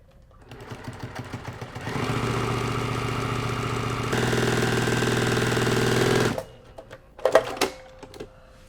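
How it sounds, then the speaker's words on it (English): A sewing machine stitches quilt seams on a jelly roll table runner, running in a steady, fast mechanical whir for about four seconds, then stopping, followed by a few faint clicks and handling sounds. "Now we're just going to go right to our sewing machine and sew these 2 stitches, these 2 seams."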